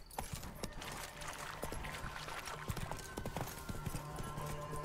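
Horse hooves clip-clopping at a quick steady trot while riding in The Witcher 3: Wild Hunt, soft rhythmic thuds over a quiet outdoor game ambience, faint overall.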